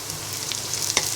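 Chopped onions and sliced green chilies sizzle in hot oil in a wok for Bengali lau bhaji, with a close, steady crackle and a few soft stirring scrapes.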